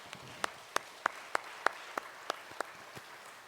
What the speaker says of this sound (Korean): 진심으로 하나님께 박수를 한번 영광 돌려보지 않겠습니까?